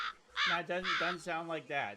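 A person imitates a crow with a run of about five nasal, harmonic caws, close and fairly loud, spaced by short pauses.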